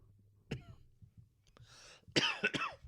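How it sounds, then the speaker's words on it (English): A few sharp, raspy coughs in quick succession, close and fairly quiet, with a short breathy pause between bursts. "I can't shake this cough"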